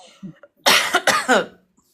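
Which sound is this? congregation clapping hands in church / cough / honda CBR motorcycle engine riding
cough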